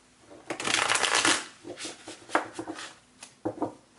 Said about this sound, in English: let's do one more shuffle here for Taurus